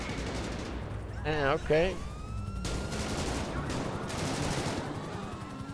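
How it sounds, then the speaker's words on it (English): Gunfire in GTA 5 crackles in a distant burst under casual voices, a few sharp reports mixed with street ambience while people talk. "we getting shot at? Oh, they getting shot at."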